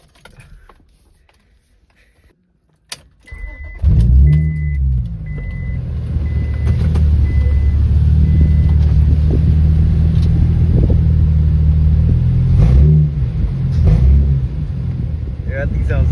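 A car engine starts, then idles and runs with a steady low rumble, close and loud, for its first drive; a few short beeps sound near the start, and a voice speaks briefly.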